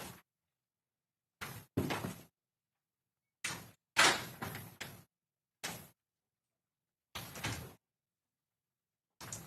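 Knocking on a door plays from a court evidence recording, several sharp raps in short clusters separated by silence, fairly faint and recorded, with no voices.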